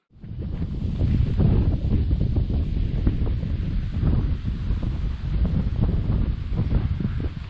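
Gusty wind blowing outdoors beside a farm dam, a loud continuous roar buffeting the microphone throughout with no pauses and no speech.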